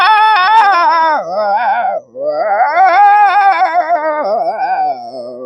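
A man imitates a dog with his voice, producing loud, drawn-out wavering whines and howls with one short break, performed alone without talk.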